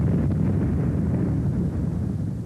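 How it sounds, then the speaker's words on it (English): A distant battlefield blast from high-explosive artillery shells hitting a target, heard as a continuous low rumbling roar that barely varies for a couple of seconds, with no voices. "The camera was turning at the moment the target was hit by high explosives."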